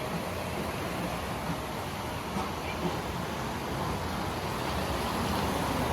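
Heavy rain pours steadily outdoors in Manila, a dense, continuous hiss of water with no break in its level across the whole stretch.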